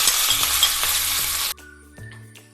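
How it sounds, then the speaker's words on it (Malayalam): Mustard seeds, fenugreek, dried red chilli and curry leaves fry in hot oil, a loud close crackle and sizzle that stops sharply partway through, leaving only faint clinks and kitchen sounds. "കടുകും ഉലുവയും വറ്റൽമുളകും കറിവേപ്പിലയും എല്ലാം ഇട്ട് കടുക് വറുത്തു."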